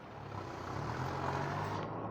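A Chinese HOWO dump truck hauling soil in Laos runs with a loud, steady diesel engine rumble that holds close and constant throughout, with no talking.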